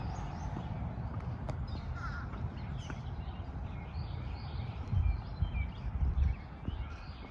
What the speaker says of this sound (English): So enjoy this walk with the beautiful birds